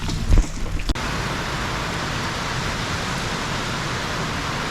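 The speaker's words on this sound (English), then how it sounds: "it's probably 75 degrees, lightning like crazy, rain showers" Rain showers pour steadily during a warm December thunderstorm on a farm, a dense, even hiss of falling water that stays constant throughout, with a couple of brief knocks at the start.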